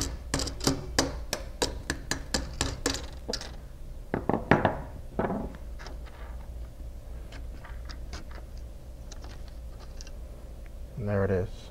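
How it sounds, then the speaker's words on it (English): Light metal taps from a flat screwdriver knocking a corner key out of a storm window frame clamped on a workbench: a quick run of sharp close clicks, then a few scattered knocks, followed by quieter handling. "I'm going to use a flat screwdriver and just lightly tap it out."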